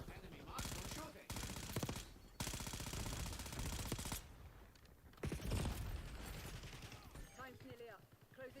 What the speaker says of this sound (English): Enemy marksman shooting.